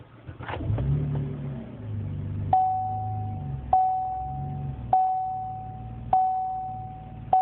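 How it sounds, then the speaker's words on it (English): A 2012 Chevy Impala LTZ engine with a Flowmaster exhaust cranks and catches into a low rumble, then a clear electronic chime sounds four times at even intervals. "I just figured I'd start the car up"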